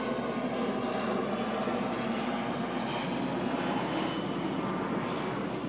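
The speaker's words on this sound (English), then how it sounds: "There's an airplane." An airplane passes overhead at an outdoor high school graduation in Enfield, Connecticut, its steady engine roar filling the clip loudly and continuously with no pause or talk over it.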